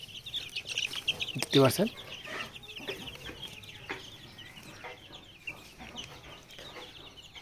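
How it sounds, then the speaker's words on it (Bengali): Desi chicks about 18 to 20 days old, just woken, cheep and chirp continuously in a brood, with one louder burst early on; someone talks briefly over them. "এখানে দেখতে পাচ্ছেন দেশি মুরগি বাচ্চা রয়েছে। এগুলা 18 থেকে 20 দিন বয়স, ঘুমাচ্ছিল, তো ঘুম জাগ্রত করলাম"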